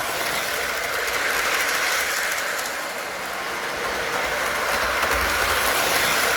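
A Great Northern model train rumbles steadily along its layout track with a constant whirring, rattling drone, fairly loud and close, without any voices.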